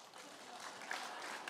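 A sermon audience breaks into applause, a soft, steady patter of clapping that stays faint and even for its short length.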